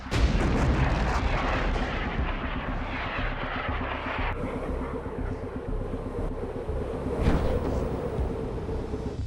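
A rocket lifts off at ignition under clear skies, giving a loud, continuous roar of rumbling low-end noise that holds for the whole stretch, with a harsher crackling burst near the end and no talk over it.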